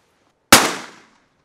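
A single sharp shotgun blast fired with 3-inch 2-shot Black Cloud duck loads during a pattern test, loud and close with an abrupt onset and a roughly half-second decaying tail, no talk.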